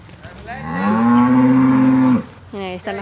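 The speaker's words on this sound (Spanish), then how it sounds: "Miren las vacas comiendo." Cows eating on a farm, with one close, loud, drawn-out moo lasting about two seconds, then a second cow lowing in shorter bursts nearby.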